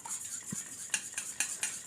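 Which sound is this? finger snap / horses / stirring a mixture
stirring a mixture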